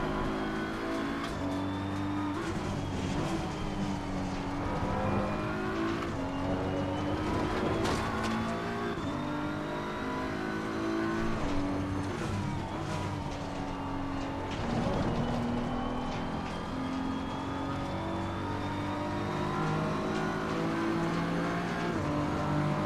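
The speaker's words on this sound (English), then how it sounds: "coming off these corners, I should be accelerating. So accelerating now." A race car in Assetto Corsa Competizione accelerates through corners in a qualifying lap, its engine note climbing and dropping through gear changes with a steady loud drone and occasional tire noise.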